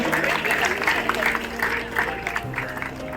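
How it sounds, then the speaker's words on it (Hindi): Audience clapping at a Republic Day celebration held by Eastern Railway, moderate and diffuse, mixed with a public-address voice, background music tones and crowd murmur. "दर्शकों से आग्रह कि तालियां बजाकर उत्साहवर्धन करें।"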